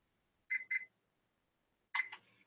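A microwave's timer keypad sounds as it is set for cooking: two quick electronic beeps, a pause, then two more beeps, close and clear in an otherwise quiet kitchen.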